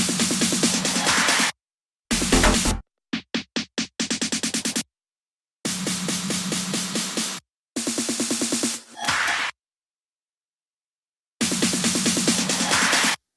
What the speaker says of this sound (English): here are some trance drum rolls from some sample packs